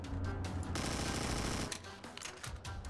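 Rapid bursts of automatic gunfire in the Granny mobile horror video game, loud and dense for most of the stretch, then continuing as sharper, more separated shots.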